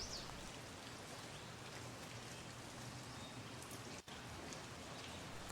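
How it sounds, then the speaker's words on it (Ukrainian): Steady spring rain falls throughout, a dense, even patter of drops outdoors with no voices, continuous and moderately soft. "Дощові крапельки ніби виконують весняний танок."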